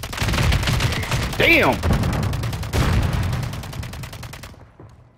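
Rapid gunfire bursts crackle through a battle royale video game firefight, loud and near, with steady volleys over several seconds while players talk and shout over the shooting before it cuts off abruptly.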